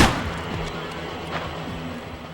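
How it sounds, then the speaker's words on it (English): Several sharp gunshots crack over a dense, rumbling soundscape in the video game Manhunt, scattered irregularly with low thuds underneath. "Gunshots."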